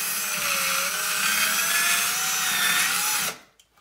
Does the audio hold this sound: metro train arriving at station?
no